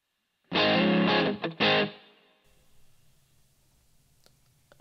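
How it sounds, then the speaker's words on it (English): An electric guitar through a Flamma FX 150b with spring reverb and overdrive strums a few loud, gritty chords that cut off, leaving a reverberant tail and faint clicks. "Now I want to add a reverb. Spring reverb is fine. And let's now also add an overdrive."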